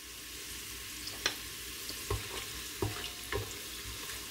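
Garlic frying in oil in a pan, the base for a Yemeni-style mutton roast, gives a faint, steady sizzle broken by a few soft clinks and stirring knocks.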